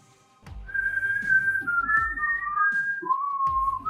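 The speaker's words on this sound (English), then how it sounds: "Why is he whistling?" A person whistles a slow, wavering melody, clear and close, with a few soft thumps underneath and no talking.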